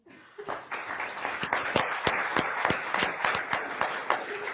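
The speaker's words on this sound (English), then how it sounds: "A round of applause for Silicon Flatiron's team." A room of event attendees applauds the Silicon Flatirons team, a steady, close round of clapping with distinct sharp individual claps standing out, starting abruptly and carrying on to the end.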